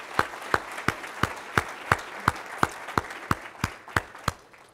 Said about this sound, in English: So why don't we give Officer Steele a big round of applause and thank him.